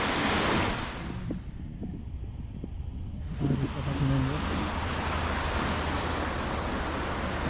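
A large river rushes near Sukute Beach with a broad, steady roar of water, strong wind buffeting the microphone, and a voice speaking briefly over the flow.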